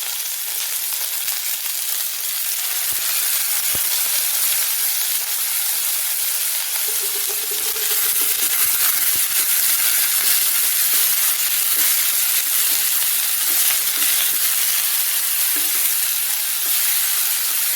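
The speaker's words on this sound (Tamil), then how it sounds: "முருங்கைக்காய் கொஞ்சம் வெந்து வரட்டும்" Drumsticks simmering in a tangy tamarind Kanyakumari theeyal curry give a steady, close sizzling hiss that runs unbroken throughout, with a few faint clinks and no talking.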